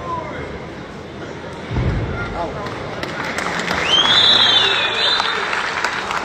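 Crowd applause rises at a wrestling match in Almaty, a broad wash of clapping and noise with a thud near the start and voices and whistles mixed through it.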